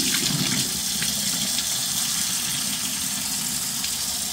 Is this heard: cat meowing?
no